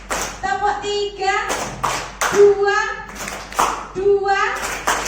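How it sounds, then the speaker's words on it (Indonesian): Group clapping in short rhythmic bursts during a positive-discipline training session, separated by a speaker's prompting voice; several clap sets stand out clearly, with a talker leading between them. "monggo tepuk 1, tepuk 2, tepuk 3"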